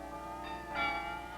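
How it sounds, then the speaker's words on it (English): Carillon church bells ring out across Amsterdam from a tower holding a full set of 53 bells, sustained overlapping tones swelling midway with a brighter struck note, no voices. "They were all given a complete carillon of 53 bells."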